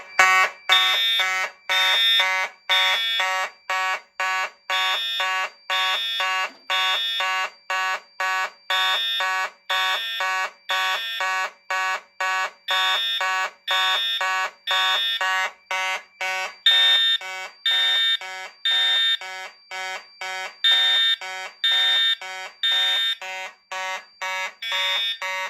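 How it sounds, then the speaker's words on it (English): Once a smoke detector is triggered, a fire alarm system sounds in a steady, rapid pulse of loud electronic tones that repeat with a regular rhythm and play alone with no talk. "For our next test today, I'm going to activate the smoke detector."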